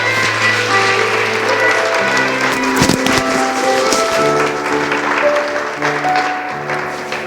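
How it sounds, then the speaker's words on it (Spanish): A church congregation claps together for several seconds at moderate loudness, while sustained organ or keyboard chords play underneath and a voice is faintly present. "Denle un aplauso al Rey."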